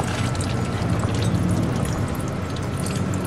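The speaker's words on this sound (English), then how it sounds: "this is some of the fluid that was left in the pan" Old transmission fluid from a Chrysler Imperial spills out of the removed pan in a close, continuous, loud splashing pour with no break, and nobody talks over it.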